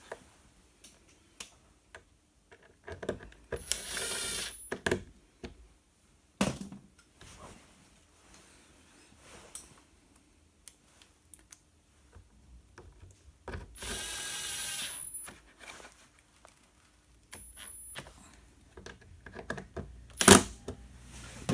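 Screws being refitted on a Renault Clio 2 fog light, heard as scattered quiet clicks and ticks with a few short, buzzing bursts like a small power driver, spread out with pauses and no talking.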